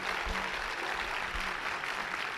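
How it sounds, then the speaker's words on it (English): Audience clapping for performers at a high school choir spring concert, a steady dense wash of applause at moderate level with no voices. "One last time, give our performers a round of applause."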